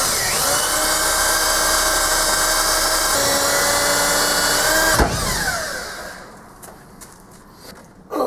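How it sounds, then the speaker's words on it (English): A power drill bores through a wooden headstock, a loud close whine holding steady for several seconds before the pitch drops as the bit breaks through and the motor winds down, followed by a couple of faint knocks. "drill through the bottom of that headstock"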